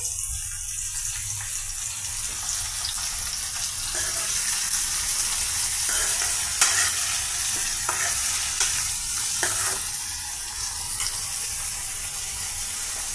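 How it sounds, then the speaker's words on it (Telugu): Boiled cluster bean pieces fry over a medium flame in a pan, with a continuous loud sizzle and repeated scraping stirs throughout, close up and without any voice. "మీడియం ఫ్లేమ్ మీద ఈ చిక్కుళ్ళు ఫ్రై అవుతాయండి"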